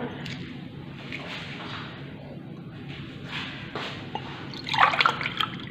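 Water poured into a pot to make sugar syrup for an economical one-egg bey bread, a soft trickle and splash that swells briefly near the end, with faint kitchen noise throughout.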